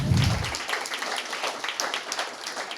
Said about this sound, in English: Yeah, we can do a little clap.